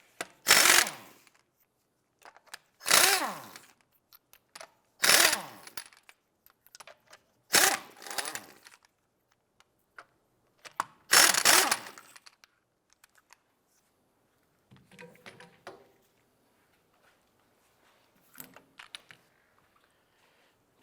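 Lug nuts come off the rear wheel of a 2006-2011 Cadillac DTS with a power tool on a 19mm socket and a ratchet: five loud, evenly spaced whirring bursts, then fainter scattered clicks and rattles near the end.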